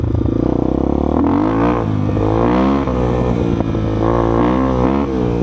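A Kovi Advance 250 motorcycle from 2023 runs close and loud with a steady rumbling engine note whose pitch drifts up and down in gentle blips.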